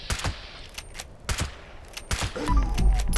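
Rapid lever action rifle shots in the game Fallout 76, a string of sharp cracks fired in quick succession, loud and close, followed by a rising mechanical clatter and whir at the end.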